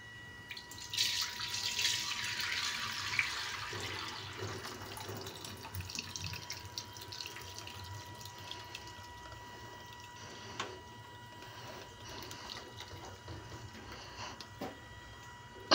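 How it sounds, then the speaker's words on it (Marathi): Water is poured off boiled lentils in a home kitchen, separated from the dal before puran is made, giving a soft, continuous splash and trickle that fades into faint drips. "हे पाणी आपलं ओतायचं"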